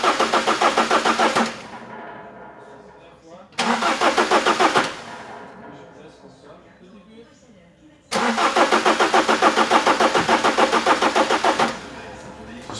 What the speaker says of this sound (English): Philippe intentionally removed the diesel injector connectors so they can turn the engine over without it firing up.